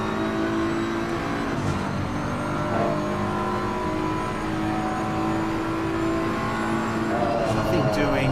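BMW and Audi race cars in a PC sim race at Kyalami, engines droning and revving steadily up the front straight, a continuous loud whine with shifting pitch and commentary talking over it.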